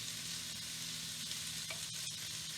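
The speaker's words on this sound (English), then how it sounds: "we got to get this meat browned up." Pork tenderloin pieces brown in a hot pan for chop suey, giving a faint, even frying hiss with a couple of brief stirring clicks, steady and uninterrupted by voices.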